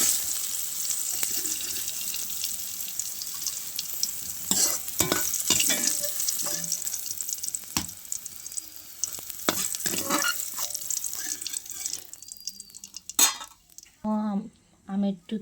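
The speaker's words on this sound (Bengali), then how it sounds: "বেগুনটা আমার ভাজা হয়ে গেছে" Eggplant sizzles in hot oil while it is stirred in a pan, with repeated scraping strokes and clatter over a steady hiss. Running water and faint voices come in near the end.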